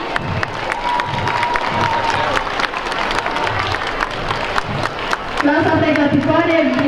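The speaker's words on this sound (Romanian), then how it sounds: "eu zic să-i aplaudăm ca să le mai treacă din emoții" School opening ceremony crowd applauding the new pupils, dense loud clapping with cheers and children's shouts, and voices rising over it near the end.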